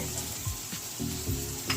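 Salted onion frying and softening in a pan for fish and egg cutlets, a steady close sizzle with a few quick stirring scrapes.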